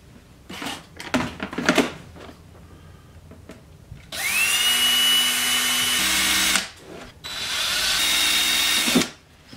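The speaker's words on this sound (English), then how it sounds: "Drill these holes in here." A power drill bores breathing holes into a plastic container for a mealworm farm, two long loud whining bursts of about two seconds each, preceded by handling clatter and separated by a short pause.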